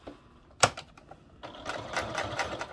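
A sewing machine sews small pieces of a travel organizer with a short stitch length, a brief burst of motor whir followed by a steadier run of close, rapid stitching.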